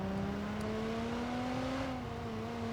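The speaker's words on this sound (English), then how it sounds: "I like hearing that engine rev up" In a racing video game, a car engine drones steadily with its pitch rising smoothly, then dips slightly and holds, a continuous tone with no voices over it.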